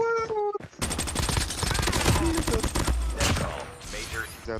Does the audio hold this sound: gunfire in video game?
yes